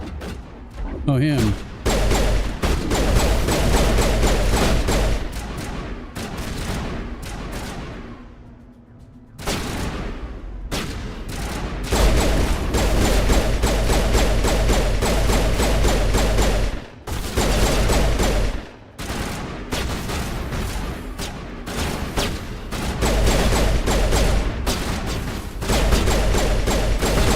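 Sustained gunfire from the video game Mass Effect Legendary Edition, loud dense bursts and volleys running almost continuously with brief pauses, a short spoken line heard among the shots.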